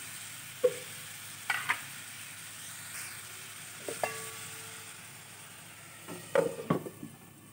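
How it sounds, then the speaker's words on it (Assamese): Ash gourd pieces frying in a pan for a fish curry with lemon, a faint continuous sizzle punctuated by a handful of clear scraping stirs and spatula knocks, spaced a second or two apart. "কোমোৰাখিনি ভালদৰে লৰাই দিম।"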